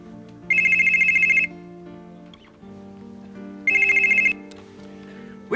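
A telephone ringing in two electronic trilling bursts, each lasting about a second and separated by a few seconds, heard clearly over a soft background of music.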